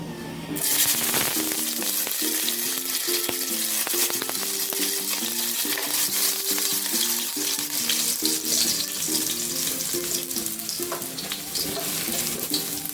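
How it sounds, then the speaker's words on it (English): Garlic frying in a pot while beef liver is cooked Jamaican style, a loud continuous sizzle and crackle close up with background music playing throughout and no talking. "now I'm going to add the garlic into the pot"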